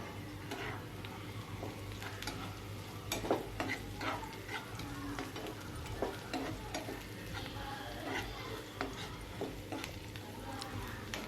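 Curry leaves sauté in a hot pan with steady sizzling and frequent scraping and stirring clicks, close and moderately loud, no talking.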